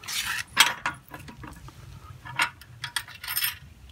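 Metal flat washers and a lock washer clinking during a U-bolt fitting on a vehicle frame bracket for a RockGARD install: several short, bright metallic clinks spaced irregularly, close and fairly quiet, with no talk.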